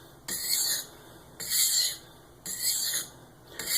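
A kitchen knife is sharpened with light trailing strokes on a waterstone. Four slow, evenly spaced hissing scrapes come up close, each lasting about half a second with short pauses between them, and there is no speech.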